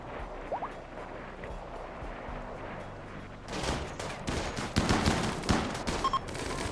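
Gunfire in the video game RimWorld: after a quieter stretch, dense bursts of rapid shots and impacts break out, loud and crackling, in overlapping volleys that continue to the end.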